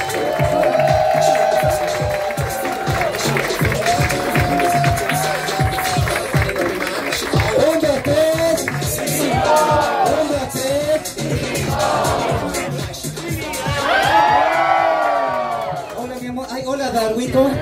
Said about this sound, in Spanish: Quiero un fuerte aplauso